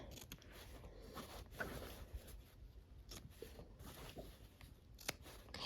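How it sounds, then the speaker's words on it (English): Scissors snip the corners of quilt fabric, a few soft, crisp cuts scattered over a quiet background with no talking. "let's trim the corners"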